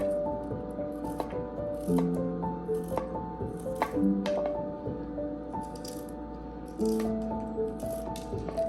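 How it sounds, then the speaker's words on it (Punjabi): A knife slices bitter gourd (karela) into thin pieces on a board, making a series of soft, close, irregular cuts with small squishy crunches. "ਇਦਾਂ ਪਤਲੇ ਪਤਲੇ ਕੱਟ ਲਵਾਂਗੇ ਜੀ"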